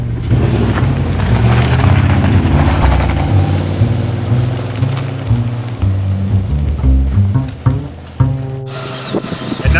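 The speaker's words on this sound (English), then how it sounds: "Another great way to see the valley is on a helicopter sightseeing trip." A sightseeing helicopter flies over the valley at Golden, BC, with a loud, continuous engine and rotor drone whose pitch shifts and wavers as it passes.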